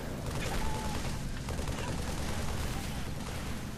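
Dense, continuous gunfire from the Halo 3 video game, loud and sustained with overlapping shots and explosions throughout.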